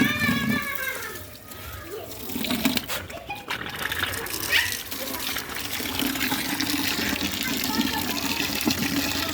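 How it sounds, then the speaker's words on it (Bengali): Water runs steadily from an open tap, splashing and filling, with brief voice-like sounds near the start. "এই যে কলটা ছাড়িয়ে দিলাম"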